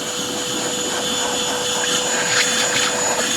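A GeeMo X4 vacuum cleaner fitted with a small nozzle cleans between car seat cushions, giving a continuous close roaring whine with slight shifts in pitch as the nozzle moves, and no speech.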